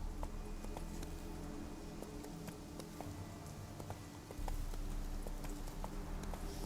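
Roach the horse gallops in The Witcher 3: Wild Hunt, giving a quick, steady run of hoof clip-clops up close over a low game ambience, with a brief voice nearby.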